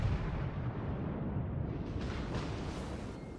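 Battleship shell hits in World of Warships, heard as a continuous heavy rumble of explosions and gunfire with deep booming low end and crackling debris, loud and sustained throughout.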